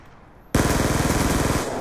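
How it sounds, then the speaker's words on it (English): Rapid automatic gunfire from a heavy-recoil gun in a video game bursts in suddenly after a short quiet lead-in, then continues as a loud, fast, even stream of shots to the end. "This gun has so much kick recoil"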